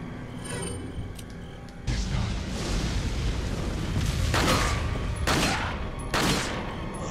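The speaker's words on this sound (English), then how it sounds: "Three shots." Upgraded Red 9 pistol firing in Resident Evil 4 at the Clock Tower, loud sharp shots ringing out amid ongoing combat noise, with a few distinct bursts standing out near the end.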